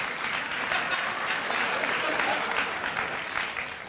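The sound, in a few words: applause and clapping on a talk show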